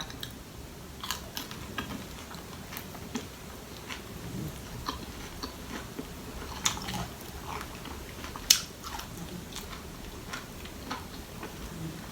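Someone chews pearl mushrooms, producing soft, irregular wet bites and clicks spread across the stretch at close range, with no talk.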